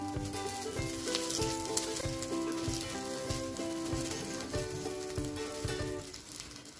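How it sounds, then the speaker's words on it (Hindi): A puran poli, the sweet stuffed Indian flatbread, sizzling in ghee on a hot griddle, a steady crackle with repeated rhythmic tapping or pressing strokes throughout, close and moderately quiet. "अब हम इसे टर्न कर लेंगे। इसके ऊपर हम थोड़ा सा घी लगा लेंगे।"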